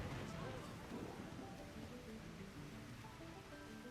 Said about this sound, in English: That's not normal rain.